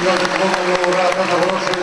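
Applause from an audience at an award ceremony honouring a rescuer, a steady wash of clapping that fills the short stretch at even loudness.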